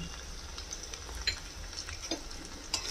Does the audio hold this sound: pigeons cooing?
no